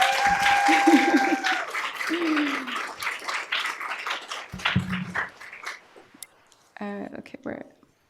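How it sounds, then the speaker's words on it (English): An audience applauds after a song at a rare disease event, steady broadband clapping that thins out toward the end, with voices and other sounds mixed in. "Can we give another hand of applause?"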